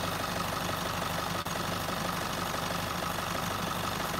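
A Chevrolet Colorado ZR2 diesel engine idles steadily, a constant, even mechanical rumble with a faint rhythmic knock, close and unbroken, with no talking.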